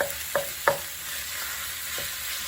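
Ground beef and garlic fry steadily in a pan with a soft sizzle, broken by a few sharp scrapes of a utensil stirring and breaking up the meat, close by with no talking.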